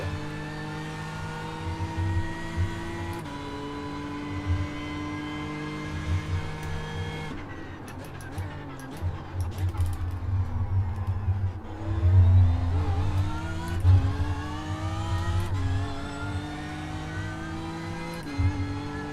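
Race car engine in an enduro racing video game, droning and whining steadily with rising and falling revs through gear changes, loud and continuous with no talk.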